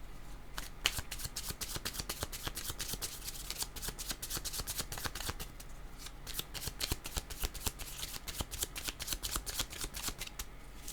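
Playing cards being shuffled again and again, a dense run of crisp riffling flutters and slaps that keeps going steadily and close by, with no voices over it.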